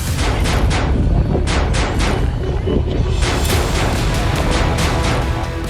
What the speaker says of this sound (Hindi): उन्होंने इजरायली नागरिकों पर अंधाधुंध फायरिंग शुरू कर दी